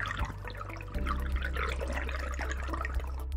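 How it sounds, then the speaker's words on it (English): Water drains steadily out of a bowl-like container, lowered back to its original waterline during a forensic displacement demonstration; a continuous close trickle and gurgle with no voices. "now we're going to drain the water back to the original water line."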